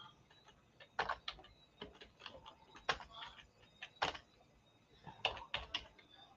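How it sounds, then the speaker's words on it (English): Irregular clacking keystrokes tap out in small bursts with pauses between, close by but quiet overall. "I'm sure you can hear my keyboard because it's loud."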